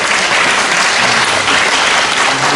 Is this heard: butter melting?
no